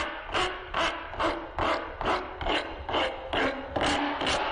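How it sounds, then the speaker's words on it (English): Small shelf brackets are worked with a coarse grit file: about ten even, rhythmic rasping strokes, close and clear, with no voices. "So one option is to use a file."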